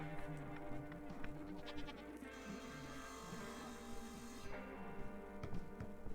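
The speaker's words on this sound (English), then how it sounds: "That was a goat." Goat bleating in the video game Sally Face, a wavering buzzy bleat amid layered construction noise and a steady hum, moderately loud and repeating across the stretch.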